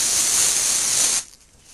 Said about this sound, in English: I'm going to spray right in here.